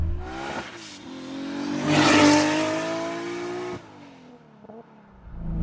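Nissan R32 GT-R with a lazy, loud turbo accelerating hard, the engine climbing in pitch through a close, loud pull, then dropping off to a lower idle-like drone with a faint whoosh at the end.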